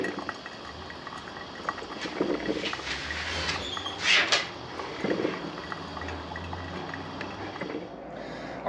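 Coffee maker brewing a flavored Bones Coffee oatmeal creampie blend, steady bubbling and hissing gurgles with a few brief clinks of dishes, close and moderately loud.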